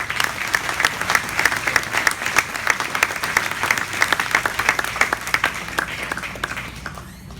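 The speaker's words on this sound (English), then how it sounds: "Let's give these exhibitors one more round of applause." Steady, dense applause from the crowd at a livestock show after the grand champion beef steer is chosen, continuous clapping for several seconds that tapers slightly near the end.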